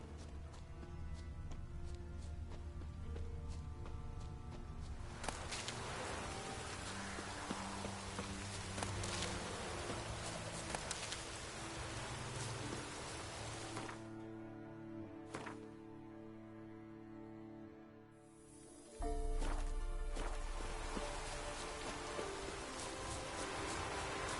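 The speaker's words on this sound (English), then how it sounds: "Looks like rain." Steady rain falls in Witcher 3, a continuous soft patter heard alongside clip-clopping horse hooves and game ambience, fairly faint, with no talking.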